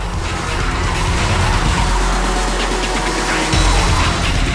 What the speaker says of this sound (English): Junior Rotax Max karts have the yellow and black numbers and are powered by a 125cc water-cooled 2-stroke